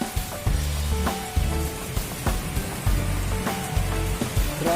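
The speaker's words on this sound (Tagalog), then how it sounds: "Lakas ng ulan." Heavy rain pours down in a continuous wash of noise with repeated thumping impacts, heard during a storm with flooding near a small hut.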